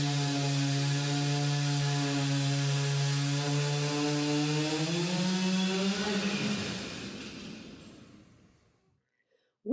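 A chainsaw engine drones loudly and steadily during a logging demonstration, then revs up and winds down to silence near the end.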